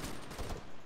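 Rapid bursts of gunfire from the Arma 3 battle royale video game, several loud cracking shots close together across a brief moment with no talk.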